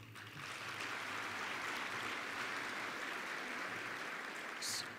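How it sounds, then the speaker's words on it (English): A full audience applauds at the 2014 Black Engineer of the Year Gala, a steady, dense wash of clapping that holds at an even level for about five seconds. "Let's give them all another much-deserved round of applause."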